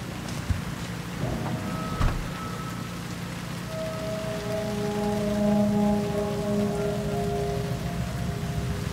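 Steady rain falls in a city street scene of the video game Cyberpunk 2077 Phantom Liberty, a continuous hiss with faint tonal hums and synth lines running underneath.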